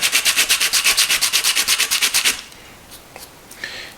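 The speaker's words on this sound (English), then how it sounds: "You just kind of have to rub this back and forth until you can get the whole thing smoothed out and even" Sandpaper rubbed back and forth on the cut rim of a 2-liter plastic beverage bottle, about a dozen and a half quick, even rasping strokes close by, then stopping into quiet.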